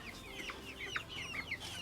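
Young purebred laying hens at a poultry farm cluck and chatter in quick, repeated calls, fairly faint and with no voices.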